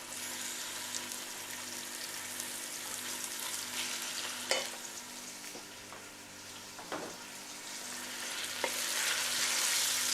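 Three large onions frying in a pan for chicken biryani, a steady broad sizzle running throughout with occasional sharper crackles and stirring scrapes near the middle and end.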